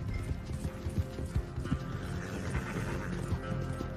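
Horse hooves clip-clop at a steady gallop in the video game Red Dead Redemption II, a rapid rhythmic pounding that runs throughout, with rattling gear and game effects layered over it.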